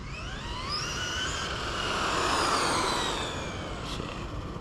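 A Traxxas Raptor R RC truck runs on a 2S lipo with its electric motor at full throttle, a high whining drone that rises and falls in pitch as the truck speeds past, mid-distance and alone.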